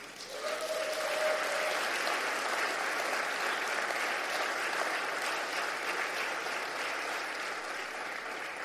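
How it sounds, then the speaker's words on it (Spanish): A church congregation applauds steadily for several seconds, a dense, continuous wash of clapping filling the room at an even level throughout. "Denle un aplauso al Señor."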